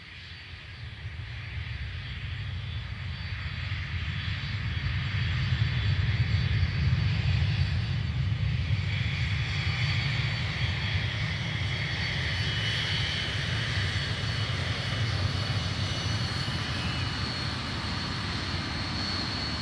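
A Cobham aircraft, registration VH-NJP, rolls for takeoff on runway 03 at Perth, its engines building into a loud, steady roar that swells after a few seconds and holds strong throughout without any voices.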